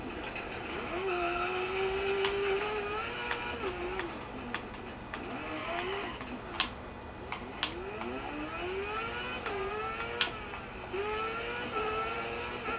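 Rally car in the Dirt 4 racing game, engine revving and rising in pitch through gear changes as tyres skid and squeal on a bend, steady game mix throughout.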